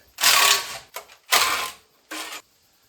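A ratchet fitted with a chrome socket loosens bolts on a generator in three or four quick, close, clicking bursts separated by brief pauses, with no voices.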